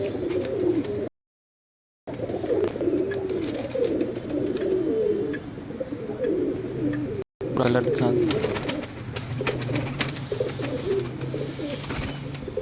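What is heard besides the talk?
pigeons cooing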